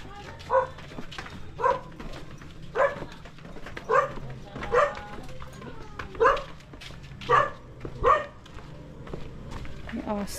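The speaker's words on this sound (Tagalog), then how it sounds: "Beware of dogs." Dogs bark repeatedly near a house, about nine evenly spaced, sharp barks ringing out close by over a steady low background hum, while people talk faintly in between.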